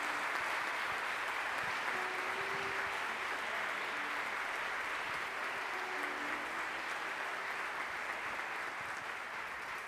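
A church congregation applauds steadily throughout, a dense, even wash of clapping from many hands in a large room, continuous without pauses.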